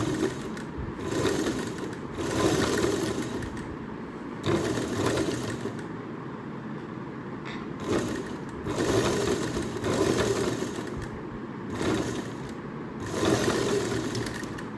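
A sewing machine stitches a coin purse made from blouse fabric, running in repeated short bursts of rapid mechanical whirring with brief pauses between them, close and fairly quiet.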